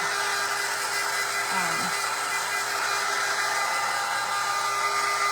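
Hair dryer blowing steadily to dry wax on a cutting board, a constant whirring hum with a fixed tone, running alone and close.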